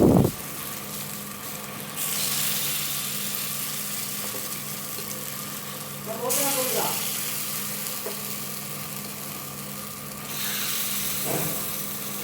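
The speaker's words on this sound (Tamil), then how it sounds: "இப்போது எண்ணெய் காஞ்சதும் பணியார மாவு ஊற்றிக்கலாம்." Paniyaram batter hitting hot oil in a paniyaram pan on a stove, with bursts of sizzling that swell and fade over a low steady hum, plus a few clinks of utensils.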